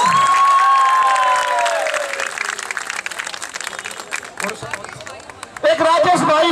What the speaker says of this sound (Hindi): इसके लिए ताली बजाए